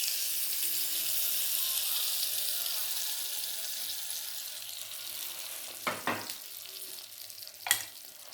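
Hot tempering poured into spinach (bachali leaf) chutney, a broad steady sizzle throughout followed by a few short clattering knocks near the end.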